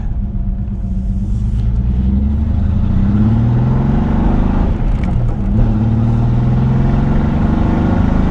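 A barn-find Datsun 280Z, off the road for 18 years, driven with its engine running, a loud close rumble that rises and falls through gear changes and revs.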